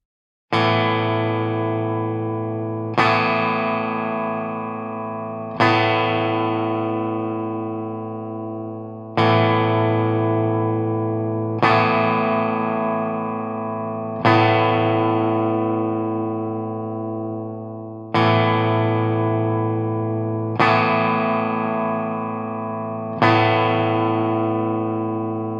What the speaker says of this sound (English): Let's hear an example of each amplifier on a clean setting without overdrive.